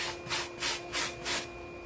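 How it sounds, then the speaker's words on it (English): A sanding block rubs back and forth on wood in four even, rhythmic strokes, each a close, soft scratchy swish with short gaps between, over a faint steady hum. "It's just a sanding block that I picked up from Walmart"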